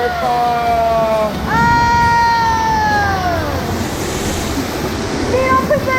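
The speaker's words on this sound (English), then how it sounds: "First we're going under a waterfall." Water park waterfall pouring down in a steady broadband rush, with excited voices and a shriek-like tone riding over the cascade throughout.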